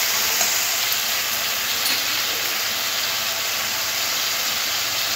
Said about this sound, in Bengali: মশলাটা একটু হালকা নাড়াচাড়া করে নেব